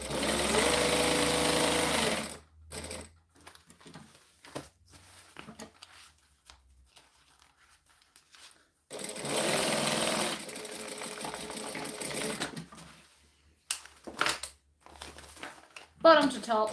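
A sewing machine stitches handbag pockets together in a loud, steady whir for a couple of seconds, then again for several seconds, with quieter handling and brief rustles between runs.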